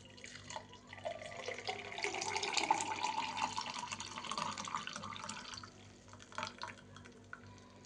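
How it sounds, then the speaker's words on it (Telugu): Homemade ABCD juice of beetroot and other produce poured into a glass, heard as a steady close liquid trickle that swells and then thins to a few drips at the end, with no voices. "ఇప్పుడు జ్యూస్ పోసుకుందాం."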